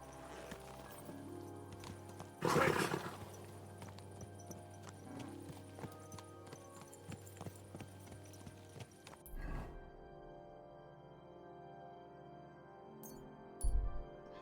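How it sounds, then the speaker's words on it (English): Horse in the medieval game Kingdom Come: Deliverance 2, with a loud whinny early on, then a soft patter of hooves and faint tack clinks over a quiet background. "Come on, horsey."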